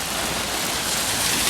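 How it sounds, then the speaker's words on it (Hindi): Heavy rain pours outside a temple in Singapore, a steady, dense hiss of falling water that holds at one even level for the whole moment with no voices. "जोर से बारिश हो रहा है।"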